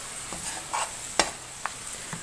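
Spices frying in a pan for sesame chicken, stirred with a few distinct scraping strokes over a soft steady sizzle, heard close with no talking.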